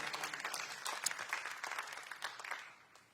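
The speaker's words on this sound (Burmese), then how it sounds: "အားလုံးလက်ခုပ်တီးပြီးတော့ကျေးဇူးတော်ချီးမွမ်းရအောင်" Congregation applauding during a church sermon, irregular clapping of moderate loudness that thins out toward the end.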